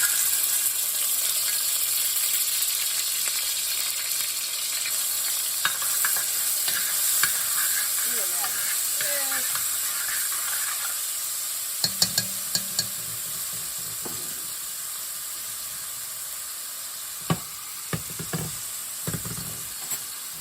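Minced garlic sizzles in olive oil coating a pan on medium-high heat, a continuous bright crackle with several sharp utensil clicks and scrapes against the pan, and no voices.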